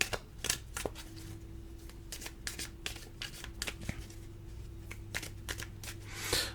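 Oracle cards made from a FOCUS deck being drawn and handled, with a quick run of crisp, close card snaps and flicks in an irregular rhythm against a quiet background with a faint low hum.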